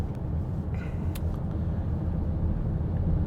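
A Hyundai Staria van cruising smoothly at about 60 km/h gives a steady, even low rumble of road and engine noise, with a few faint ticks and no voices.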